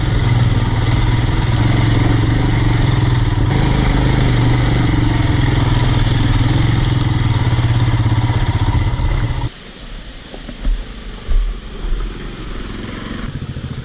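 Royal Enfield Himalayan motorcycle engine while riding, a loud steady close drone that drops off suddenly to a quieter rumble with a few short revs near the end.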